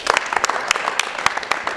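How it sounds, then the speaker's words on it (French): A church audience at a Bible teaching event applauds, and the close, dense clapping keeps up steadily with sharp individual claps standing out. "On peut acclamer encore une fois"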